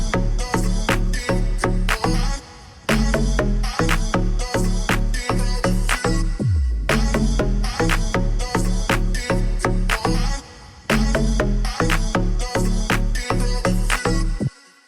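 An EDM dance track built from chopped, pitched vocal fragments with added effects plays loud and alone, a pounding four-on-the-floor beat and stuttering vocal slices, with brief drops in energy around the third and eleventh seconds before the full groove returns.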